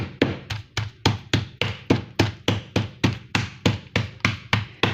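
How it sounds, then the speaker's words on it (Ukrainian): A meat mallet pounds turkey meat covered with plastic film in a steady series of about fifteen sharp, loud thuds, evenly spaced roughly every third of a second, with no talking. "І молоточком відіб'ю."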